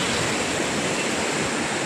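A forceful monsoon waterfall near the Gagangiri Maharaj math in the Khopoli hills roars as a loud, steady, broadband rush of falling water, with no voices.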